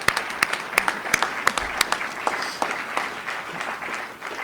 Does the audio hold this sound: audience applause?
yes